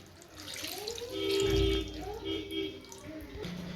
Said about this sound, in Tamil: இப்போ நம்ம அந்த கறியை வேக வச்சுருந்த தண்ணியவே இதில் சேர்த்துப்போம்